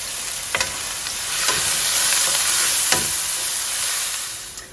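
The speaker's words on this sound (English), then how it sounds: "And while the onions are cooking," Chopped onions fry in a pan for a pepper and cashew chicken curry, a steady bright sizzle punctuated by a few spatula scrapes and taps, close and fairly loud with no talking.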